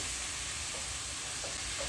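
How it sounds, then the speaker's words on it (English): Shrimp frying with onions and tomatoes in a pan, a steady, faint hiss of sizzling oil throughout with soft occasional stirring noises. "The shrimp into the onions and tomatoes."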